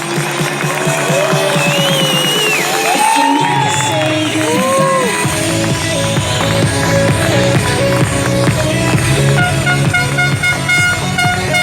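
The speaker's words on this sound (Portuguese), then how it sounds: "Mais uma vez, salve de palmas, Dr. Turíbio" After a talk, a large audience cheers loudly, with whoops and horn-like toots over a steady roar of crowd noise, and some voices mixed in.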